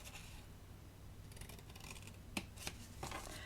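Scissors make a few close, crisp snips through the paper tabs of a craft box, with quiet rustling before the sharp cuts.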